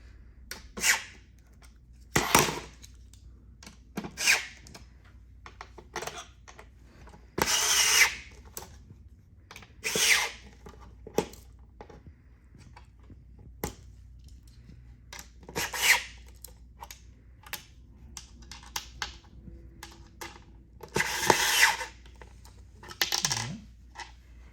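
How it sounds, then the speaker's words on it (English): Screws are turned by hand into wood while assembling a corner desk, with intermittent scraping and ratcheting bursts and small clicks, spaced irregularly over a quiet background. "we're gonna just slowly tighten them up"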